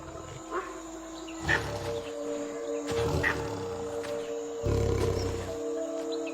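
A tigress roars repeatedly over a fresh sambar kill in the jungle, deep powerful bursts recurring at intervals over a steady insect-filled background.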